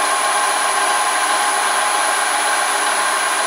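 A milling machine spindle motor running at about 1500 rpm on a variable frequency drive, giving a steady, loud, unbroken whine with a bright high tone throughout.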